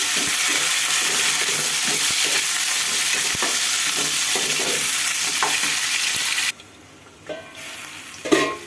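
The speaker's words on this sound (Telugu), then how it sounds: "పచ్చిమిర్చి కరివేపాకు ఉల్లిపాయలు నూనెలో బాగా మగ్గబెట్టుకుందాం" Green chillies, curry leaves and onions fry in oil with a steady, close sizzle and occasional stirring taps, then fade into quieter kitchen sounds with a brief splash of water at the end.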